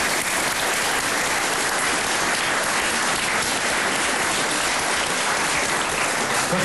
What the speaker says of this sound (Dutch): Applaus voor de uitgeverij.